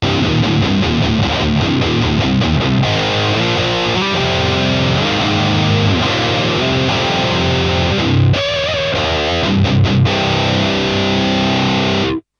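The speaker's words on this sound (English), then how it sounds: "for our distortion patch, because we need distortion, flange, and lead" Heavily distorted electric guitar through an Eleven Rack effects processor plays a loud, continuous riff with thick sustained chords, ringing without pause until it cuts off at the end.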